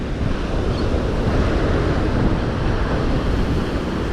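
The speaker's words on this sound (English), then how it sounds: "those are breakers, man." Ocean breakers crashing on a beach hours before a hurricane, a loud, continuous roar of heavy surf mixed with wind buffeting the microphone, with no talking.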